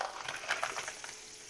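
Shrimp dropped into a hot pan start to fry with a steady close hiss and crackle, a brief burst of louder sizzling early on that settles into an even frying noise.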